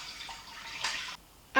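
Water poured into a cooking pot holding chicken breasts, onion, garlic and salt, a steady moderate splashing stream that swells briefly toward the end, with no talking.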